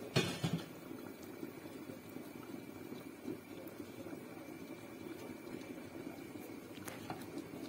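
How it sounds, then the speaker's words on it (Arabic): Camel meat stew simmering in a pot with a steady, soft bubbling and gurgling, faint and close, with a brief clatter at the start and no talking. "غادي نخليوها شويه تغلي قبل ما نسدو عليها"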